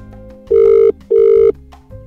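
A telephone rings twice unanswered, two steady electronic ring tones of equal length separated by a short gap over a faint background.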